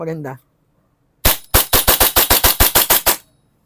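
A short burst of voice, then a pause and about eleven sharp, evenly spaced mechanical clacks, loud and close, as a Tokyo Marui gas blowback airsoft pistol is loaded and racked.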